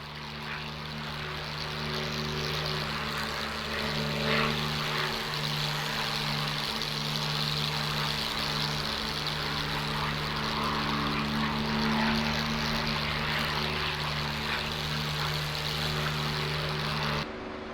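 A P-51 Mustang's piston engine in the DCS World flight simulator runs as a steady, loud, droning roar with a constant low hum, holding level from start to finish.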